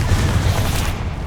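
A Confringo explosion spell goes off in Hogwarts Legacy, a dense low boom with a rumbling, sustained blast that stays loud throughout.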